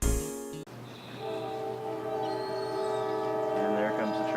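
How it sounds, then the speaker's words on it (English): A train passes nearby outdoors during filming, a steady low rumble of cars on the rails rising and holding with sustained horn-like tonal drones, after a brief loud burst at the start; no talking over it. "and there comes the train."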